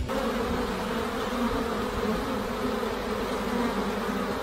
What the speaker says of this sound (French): il accumulait un nombre record d'abeilles sur lui